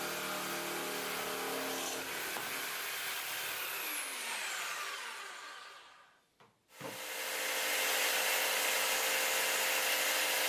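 A Bosch GST jigsaw cuts heavy-duty metal-covered chipboard flooring, a steady close buzzing rasp that fades out midway, briefly stops, then starts again at full loudness.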